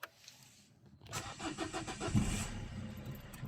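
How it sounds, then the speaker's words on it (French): A diesel car that had been given the wrong fuel is restarted after a quiet pause: the engine catches quickly and settles into a steady, close rumbling idle. "on va la redémarrer pour savoir si elle redémarre facile."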